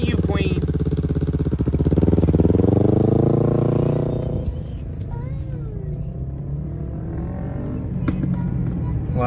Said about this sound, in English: Wow, that bike sounds amazing.